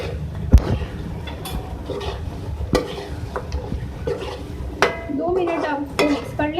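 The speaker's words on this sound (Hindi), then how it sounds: "इसके बाद इसमें हम ऐड कर रहे हैं क्रीम, और इसको मिक्स करेंगे" Cream is stirred into mutton karahi in a pot, a spoon scraping and knocking irregularly against the metal with occasional sharper clinks, close up.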